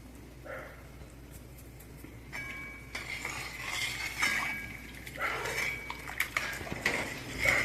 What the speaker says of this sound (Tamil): மாவை கொஞ்சம் கொஞ்சமாக போட்டு கலந்துக்கலாம்